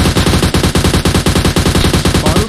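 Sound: gunfire in video game PUBG Mobile

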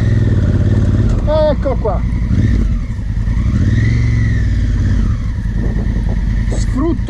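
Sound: motorcycle accelerating up a dirt hill climb

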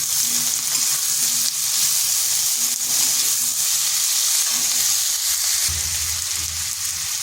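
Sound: vegetables and potato frying in pan for spinach recipe

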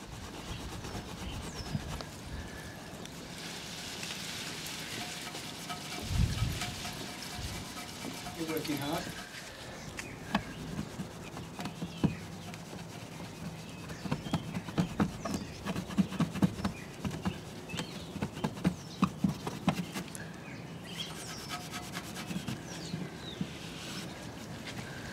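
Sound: polishing Nissan GTR exhaust tips by hand

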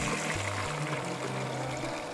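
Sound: pouring chicken stock through a sieve into a bowl

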